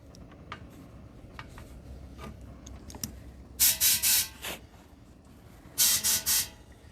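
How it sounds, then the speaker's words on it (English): Compressed air blown through a long-idle generator's fuel system to push old gasoline into a drain pan, two sets of short sharp hissing bursts, three or four each, over quiet background, no talk. "So I'm just gonna push as much of that as I can out with air into that drain pan over there."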